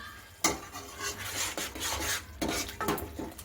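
A spoon stirs red chili powder into cooked gravy in a pan for a Gujarati green pigeon pea (tuver totha) curry, giving repeated scraping, swishing strokes with soft sizzling between them, close and steady, with no talk.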